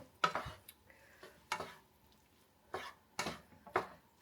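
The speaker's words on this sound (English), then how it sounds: "now a little mixy mix" Cheeseburger spring roll filling being stirred by hand in a bowl, with a handful of separate soft scraping strokes spaced a second or so apart, close and fairly quiet.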